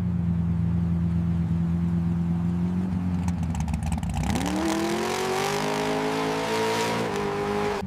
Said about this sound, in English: The result looked like a genuine Formula One race car about to take off.